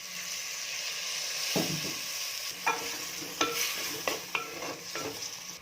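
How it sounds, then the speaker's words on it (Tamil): Tamarind water bubbles and hisses gently in a pan under a steady background hiss, broken by several sharp clinks of a utensil stirring. "புளி தண்ணியை ஊற்றிட்டு நம்ம கொஞ்ச நேரம் கொதிக்கிட்டோம்"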